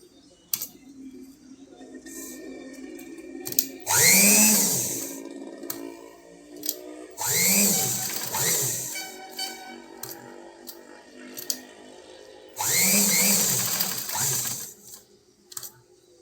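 Sewing machine joining a strip to a boat-neck princess blouse, three short rising-and-falling whirring bursts separated by quiet gaps with scattered clicks and handling sounds, close by.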